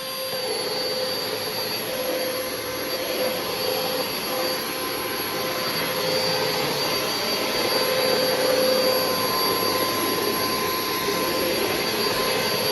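A Miele or Hoover vacuum cleaner runs with its brush roll on, giving a loud, continuous whining roar that holds steady throughout with no voices.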